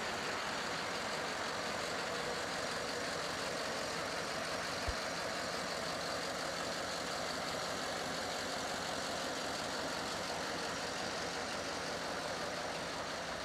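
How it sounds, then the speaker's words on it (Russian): A 1987 Kirovets K-700 tractor's engine runs smoothly, a steady droning hum that stays even and unchanged throughout, heard up close with no voices and one brief click midway. "Двигатель сухой, не течет, не сохранится, работает ровно."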